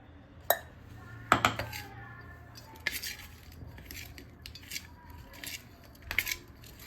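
Sesame seeds and crushed peanuts being mixed together in a dish, heard as scattered clinks and scrapes of a utensil against the dish, a few sharper knocks spaced irregularly over a quiet background.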